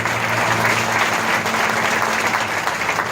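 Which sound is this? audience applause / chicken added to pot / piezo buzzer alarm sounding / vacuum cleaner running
audience applause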